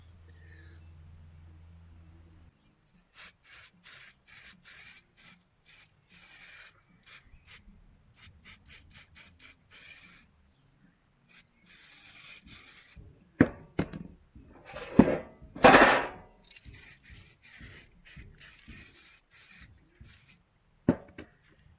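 A metal inner sill panel on a Ford Cortina MK3 is dressed by hand with short, rasping strokes. They come in regular bursts, then turn into faster, louder scraping that is close and alone, with no talk.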